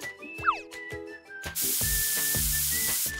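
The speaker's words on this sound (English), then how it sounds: "First, spray antiseptic," Antiseptic spray hissing in one steady, loud burst lasting nearly two seconds, preceded by a few light clicks and a brief whistling chirp.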